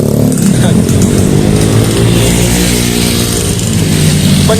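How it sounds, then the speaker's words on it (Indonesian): Motorcycle engine revving on a Jakarta street at night, a loud, sustained mid-pitched drone with a rising and falling rev, with talk mixed in over the engine. "Kebanyakan motor-motor kayak gini cuma gaya doang ya"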